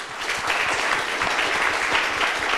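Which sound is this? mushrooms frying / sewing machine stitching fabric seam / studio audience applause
studio audience applause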